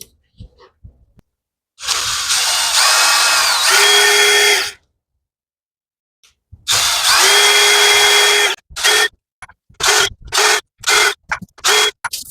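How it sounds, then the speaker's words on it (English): A power drill spins a T40 bolt on the transmission of a 2009 BMW 750i: two long whirring runs of about three seconds each, then a string of short trigger bursts, loud and close, with no talk. "I'm gonna use a drill to make it faster."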